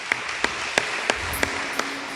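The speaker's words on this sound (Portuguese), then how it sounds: "Esses aplausos aqui não é para mim não, é para Jesus Cristo" Scattered, sparse claps from a church congregation, about eight distinct hand claps at an uneven rhythm, close and fairly clear, with no speech over them.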